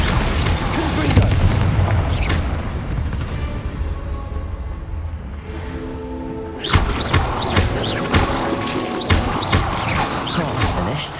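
Booming fire-spell blasts from the Hogwarts Legacy video game, dense and loud at first, thinning in the middle, then a fresh burst of sharp impacts and crackling hits continuing to the end, with spoken voice mixed in.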